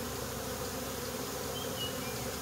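Honeybees buzzing around hive comb, a dense continuous hum of many insects close at hand, steady and unbroken throughout.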